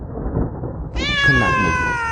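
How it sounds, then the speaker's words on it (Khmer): A small cat in a cartoon tale meows once, a sustained clear cry that breaks in abruptly after a low rumbling, rain-like background and carries on loudly to the end. "ខណៈនោះស្រាប់តែមានសំឡេងឆ្មាយំមកពីណាក៏មិនដឹង"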